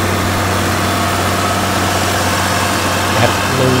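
A Caterpillar 140G motor grader engine runs at a steady idle, a deep continuous diesel rumble with a low hum, heard close up and alone at a construction road-building site.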